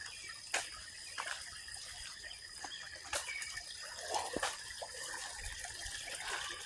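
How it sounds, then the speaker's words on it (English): Water flowing along a roadside ditch, a steady broadband rush with faint trickling, alone and fairly quiet, with scattered birdsong and a few sharp clicks over it. "I hear flow."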